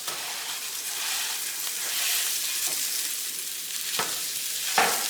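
A giant beef patty fries in a pan with a steady, bright hiss and sizzle, close up, broken by a few sharper crackles and pops toward the end.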